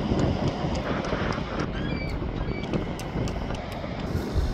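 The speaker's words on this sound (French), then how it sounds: "Il y a du vent ici aussi." Steady wind buffeting the microphone outdoors at Saint-Malo on the French coast, a continuous loud rumbling roar with gusty swells and no speech.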